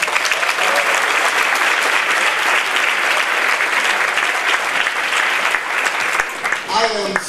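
Audience at the 2019 Onyx Magazine Women on the Move celebration applauding the honorees, loud sustained clapping from a large crowd for several seconds, with a voice emerging faintly near the end.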